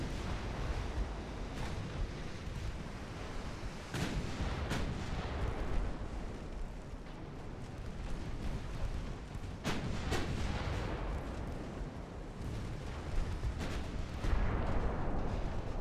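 Battleship artillery fire in the naval wargame Ultimate Admiral: Dreadnoughts, with heavy, booming salvos and explosions at irregular intervals over a continuous rumbling ambience of battle. Sharp blasts stand out along the way.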